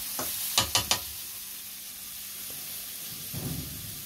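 A soft, steady sizzle of onions frying in a pan, with a few quick stirring clinks near the start and a light scrape later.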